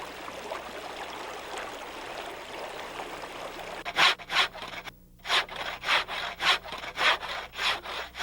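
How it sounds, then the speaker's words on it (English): Hand saw cutting wood for firewood beside a creek in winter wilderness, steady rhythmic back-and-forth strokes starting midway after a stretch of flowing water, close and fairly quiet. "Today, I would cut wood to build up my supply."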